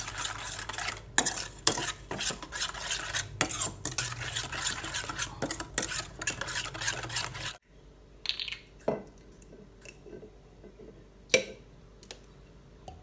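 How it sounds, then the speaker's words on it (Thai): A spoon stirs chicken feet through sauce in a pan, with repeated scraping and clinking strokes close up, then a quieter stretch with a few isolated knocks and taps. "คนให้เข้ากันนะครับ"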